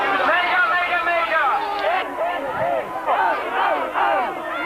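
Dense crowd shouting and jeering around a politician on his soapbox at an outdoor 1992 election stop, a near, loud mass of overlapping raised voices calling out continuously.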